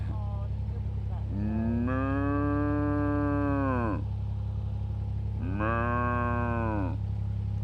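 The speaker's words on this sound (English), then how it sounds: "It's a good moo, isn't it?" A cow moos twice near a narrowboat, each call long, loud and close, with a steady low engine hum underneath throughout.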